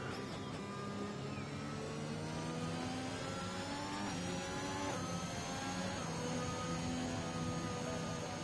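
Race car engine revving and accelerating in a racing video game at Imola, a steady loud whine with rising harmonics, continuous throughout with no talk.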